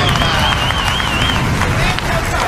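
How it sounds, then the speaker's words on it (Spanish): A studio audience claps and cheers for a contestant on a televised celebrity impersonation show. The clapping is loud and sustained, with crowd babble and a voice riding on top of it. "¡Fuerte las palmas!"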